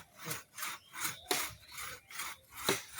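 A hand saw rasps through tree roots in steady back-and-forth strokes, about five or six rhythmic pulls in three seconds, close and fairly loud, with no talking.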